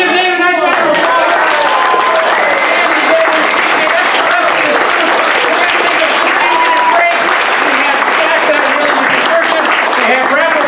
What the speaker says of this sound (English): give David a nice round of applause